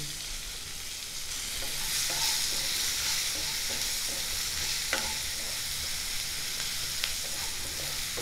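Chopped onions fry in hot oil left from frying potatoes, giving a steady, close sizzle that hardly varies, with a few faint stirring clicks and no voices.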